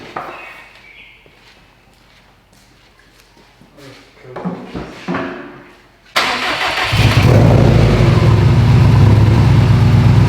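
After some quiet clunks and handling noises, a built Subaru STI engine cranks and roars to life for its first start, then settles into a loud, steady rumbling idle.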